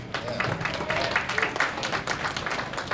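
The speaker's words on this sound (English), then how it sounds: "Applause to you guys" Fans at a Dragon*Con 2012 panel with actor Lee Arenberg break into lively applause, dense clapping in a hall with voices and cheers mixed throughout.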